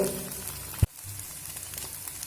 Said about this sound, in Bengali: এইভাবে নেড়ে পেঁয়াজ আর লঙ্কার সঙ্গে খুব সুন্দর করে মিশিয়ে নেব